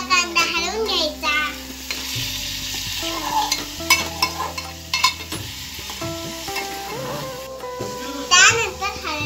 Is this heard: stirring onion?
yes